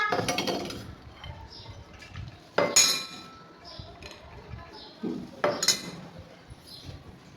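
Pulses and soaked peanuts being mixed together on a metal plate for a salad, giving sharp clinks and scrapes in a few separate bursts, with quiet gaps between them.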